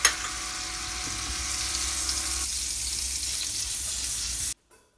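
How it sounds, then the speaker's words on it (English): Fruit toast frying in melted butter in a pan, a steady close crackling sizzle that runs continuously for several seconds before cutting off abruptly near the end. "it's been sizzling away for a couple of minutes"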